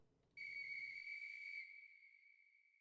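A person whistles a single sustained, clear note inside a modded Minecraft game, after a short burst of low rumble; the tone holds and then trails off into a fading echo.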